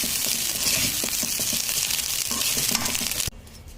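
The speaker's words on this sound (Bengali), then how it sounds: "ভাতটা ফ্রাই করে দিয়েছি।" Cooked rice with onion and chili frying in a pan, a steady close sizzle with stirring scrapes and clinks throughout, cutting off abruptly near the end.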